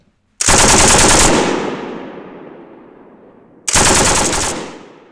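A Bren light machine gun fires two loud, close bursts on a 1942-style range course, the first lasting about a second and trailing off into a long echo before a second burst.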